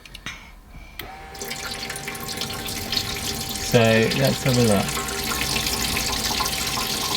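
Water runs and splashes into a sink in a camper van during a leak test, a steady rush with a brief surge of splashing midway, while a person speaks briefly.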